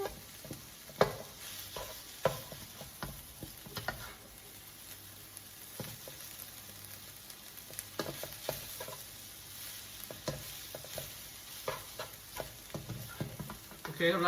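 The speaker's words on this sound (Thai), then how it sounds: "ผัดกะเพราเรียบร้อยแล้วครับ" Holy basil (kaphrao) being stir-fried in a pan over a gas flame, a steady low sizzle with repeated sharp scrapes and clinks of a spatula stirring against the pan, close and continuous, with no talking.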